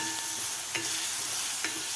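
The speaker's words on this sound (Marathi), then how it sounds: "ठेचासुद्धा आपल्याला कांद्याबरोबर व्यवस्थित परतून घ्यायचा आहे" Green chilli and garlic thecha frying with onion for Maharashtrian pithla, a constant close hiss of sizzling oil with two brief spoon strokes against the pan.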